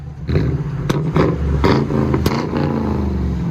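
A Mercury Grand Marquis 4.6L V8 revs in sharp bursts with a rumbling, popping exhaust note, close by and loud, over a steady idling growl.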